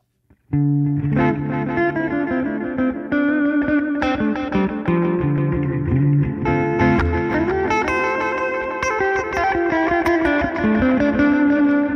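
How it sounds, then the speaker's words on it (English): An electric guitar played through a Line 6 Helix Stadium XL, reverb on one side and delay on the other, rings out in sustained, layered chords and notes with washy tails and repeating echoes, loud and continuous. "let's put reverb in one ear and delay in the other."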